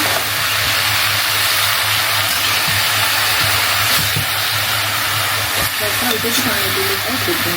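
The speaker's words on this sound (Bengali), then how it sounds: "এখন এখন কষাতে হবে সব সবজি একসাথে" Pumpkin greens, jackfruit seeds and pointed gourd frying together in a pan, a loud steady sizzle with occasional stirring knocks and a brief voice near the end.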